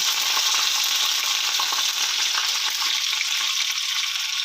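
Ginger frying in hot oil for vegetable paddu, a steady, bright, close sizzle that holds level throughout with no voices.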